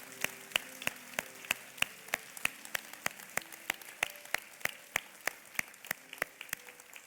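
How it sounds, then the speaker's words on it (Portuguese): During a church service, a congregation claps in a steady rhythm with sharp, evenly spaced beats about three per second. The clapping is faint and distant over a quiet background hum. "Vamos aplaudir a Ele."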